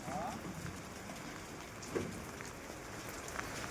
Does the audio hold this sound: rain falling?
yes